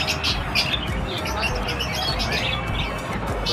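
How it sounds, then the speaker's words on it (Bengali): A pet conure parrot kept among other caged birds such as lovebirds gives a series of quick, shrill chirps over a busy, noisy background. "এটা কনুর বলে এই পাখিটাকে"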